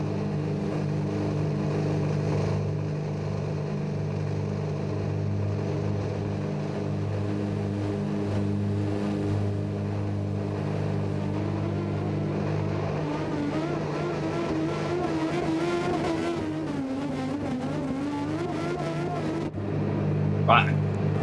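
Ferrari race car in Gran Turismo 7 idling on the grid with a steady low engine drone that rises into revving and acceleration near the end, voices talking throughout.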